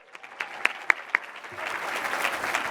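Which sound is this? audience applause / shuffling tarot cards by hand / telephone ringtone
audience applause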